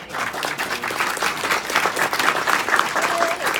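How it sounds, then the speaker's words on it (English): An audience in a convention centre break-out room claps again for performers, a dense, even wash of applause with faint voices mixed in. "Can we give them another clap?"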